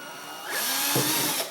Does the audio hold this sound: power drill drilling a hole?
yes